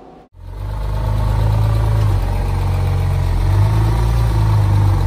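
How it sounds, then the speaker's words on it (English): A Porsche GT2 RS engine (700 horsepower) catches and settles into a steady, deep idle, smooth and close, rumbling evenly with no talking. "Sounds very docile for a 700 horsepower car."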